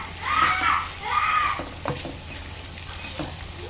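Eggplant fries in a hot pan with a soft, steady sizzle, broken by a few brief scraping stirs, fairly close and alone with no talking.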